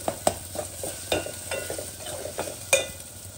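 A spoon stirs turmeric into onions frying in a pan, scraping and clacking against the metal in irregular taps over a soft continuous sizzle, close and alone with no voices.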